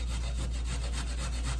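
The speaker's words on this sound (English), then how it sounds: "you just push the carrot up against the grater" A carrot rubbed against a kitchen grater makes a steady, close rasping scrape with quick repeated strokes, alone and unaccompanied.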